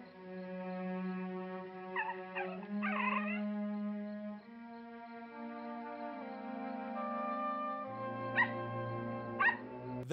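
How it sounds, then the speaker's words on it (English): A shaggy dog covered in sand gives a few short barks and yips over a steady tonal music bed, moderately loud, with the sharp bursts near the start and again near the end. "That's shaggy dog covered in sand"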